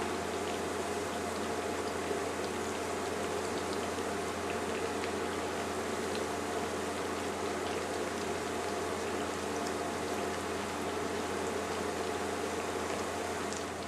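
Steady, dense crackling and bubbling of plantain slices frying in hot oil for tostones, continuous and close, with no voices.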